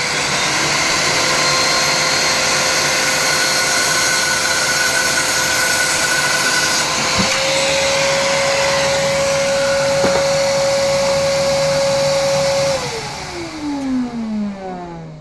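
A steady, loud machine roar with a high whine holding a pitch, then the whine slides downward as the motor winds down near the end.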